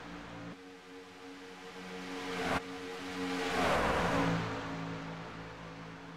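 Stock cars run a Daytona race in a sim racing game, their engines droning steadily and then swelling into a loud roar as a car rushes close by and fades away.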